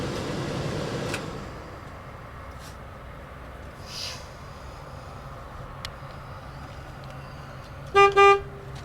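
Two short, loud honks from a truck horn near the end, following quiet cab noise with a few faint clicks and thumps during a pre-trip inspection.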